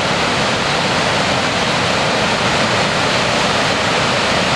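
Boulder River water pours steadily out of an underground river outlet near Big Timber, Montana, a loud continuous broadband roar like a close waterfall, unbroken throughout.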